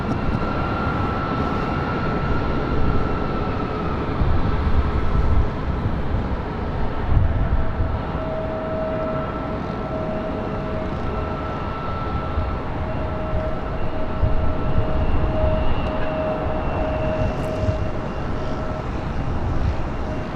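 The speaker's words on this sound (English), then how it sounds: "Looks like we have Air Tahiti Nui, the Dreamliner, heading up here for north side at takeoff." An Air Tahiti Nui Dreamliner jet takes off at LAX, its engines giving a steady, loud roar with a faint whine that holds for the full stretch, heard from a distance and without talk.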